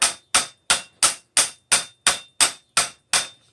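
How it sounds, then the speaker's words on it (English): Ten sharp metallic hammer blows on hot steel ring out at a steady, even rhythm as a blacksmith forges a bottle opener, each strike loud and close with a quick decaying ring. "We'll go ahead and hammer that a little cleaner."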